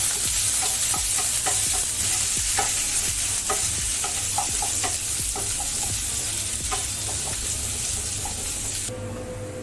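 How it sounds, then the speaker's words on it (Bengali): Chopped onion sizzles steadily in hot oil in a pan as a Bengali jackfruit-seed bharta is cooked, with a constant frying hiss and repeated light clinks and scrapes of a spatula stirring. No voices are heard. "পেঁয়াজটা একটু হালকা করে ভেজে নেব আমি।"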